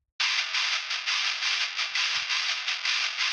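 A Waves Vitamin exciter plugin adds a high-mid boost and light distortion to a mix, giving a bright, gritty, loud band of sound with a steady pulsing rhythm throughout and no voices.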